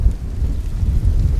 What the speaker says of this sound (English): Oh, it's getting really windy.